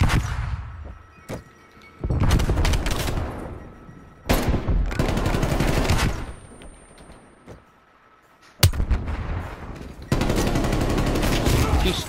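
QBZ rifle fire in Call of Duty: Cold War comes in several loud bursts of rapid automatic shots, separated by short quieter gaps.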